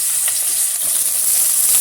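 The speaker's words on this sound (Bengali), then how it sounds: "বেগুনগুলোও আমি ভেজে নেব" Eggplant slices fry in hot oil with a steady, loud, close sizzle and crackle that continues without a break and with no talking.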